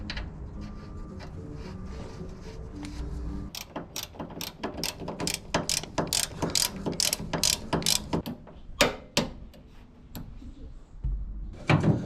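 A ratchet wrench tightening 21mm nuts and bolts on a car's front subframe, heard as rapid clicking runs close by, with short pauses between sets of strokes.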